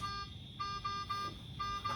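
Alarm on a nitric oxide delivery system for infant transport, sounding during a pre-use check: a thin, steady high-pitched tone that pulses in short repeated beeps over a low background hum, with no talking.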